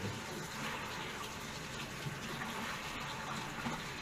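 Hot water rushes steadily from a tap after a recirculation device install, a constant broadband gush with no pauses or voices.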